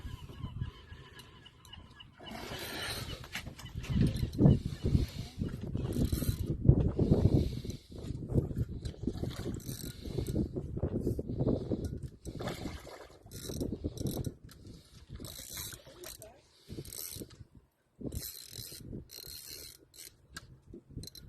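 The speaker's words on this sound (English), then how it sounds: "Drop your rod tip as you reel and then raise up." Spinning reel being cranked while a catfish is brought in on Sandusky Bay, a steady clicking, ratcheting whir running throughout at moderate loudness, with bursts and pauses as the reeling starts and stops.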